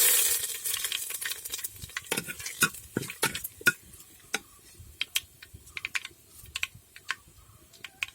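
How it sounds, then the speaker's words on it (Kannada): Mustard seeds and curry leaves dropped into hot oil in a pan for a river fish pulimunchi, giving an irregular run of sharp crackles and pops over a soft sizzle, fairly close, with no talk. "ಸಾಸಿವೆ ಹಾಕ್ತಿದ್ದೀನಿ ಇದಕ್ಕೆ. ಬೇವು ಸೊಪ್ಪು ಹಾಕ್ತಿದ್ದೀನಿ."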